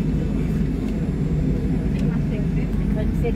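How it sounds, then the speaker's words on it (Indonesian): A steady low engine rumble and roar fills a passenger airplane cabin from a seat near the tail as the plane begins rolling for takeoff, loud and constant throughout. "Dan ini udah mulai berjalan dan mau terbang ini pesawatnya tuh."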